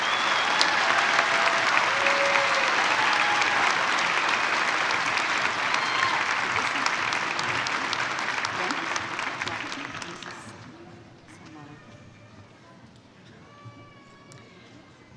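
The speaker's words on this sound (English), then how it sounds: "Why don't we take a moment to applaud the graduates that have crossed the stage?" Large audience at an autumn university convocation applauds the graduates, loud sustained clapping with scattered cheers for about ten seconds before it dies down to a few faint claps and murmurs.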